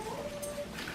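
A small dog whimpers in a thin, drawn-out whine that holds steady for most of the second, close by indoors against a low background hum.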